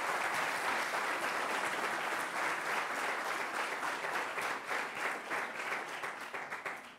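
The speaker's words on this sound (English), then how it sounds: "Can you give a big round of applause to him?" Sustained applause from an audience at an interactive physics lecture program, a dense even clapping that holds for several seconds and thins slightly toward the end.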